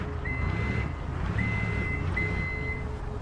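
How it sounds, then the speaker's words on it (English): A forklift's reversing alarm in the video game Forklift Simulator sounds three long steady beeps over a low engine rumble. "Got the old reversing lights and alarm going off there to warn everybody."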